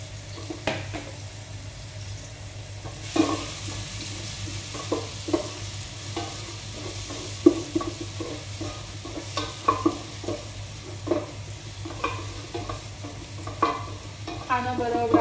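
Finely chopped onion fries in a pan with a steady soft sizzle while a spoon stirs it, giving repeated scraping clicks and taps throughout, close and alone.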